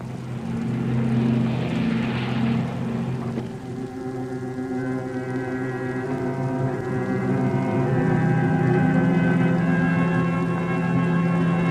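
In the Popeye House of Secrets video game, a plane's engine drones steadily and loudly as it takes off. The humming tone swells slightly and holds for several seconds with no speech.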